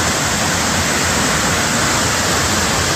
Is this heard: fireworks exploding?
no